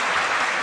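Audience applause at a Tamil debate show (pattimandram), a dense, steady wash of clapping from a large crowd, loud and continuous throughout the short burst with no talk over it.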